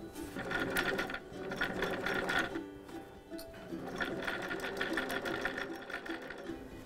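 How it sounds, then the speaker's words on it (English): A sewing machine runs steadily as it stitches fabric for a dog bandana, humming close and even in two long runs split by a short pause. "put the presser foot back down, and keep sewing"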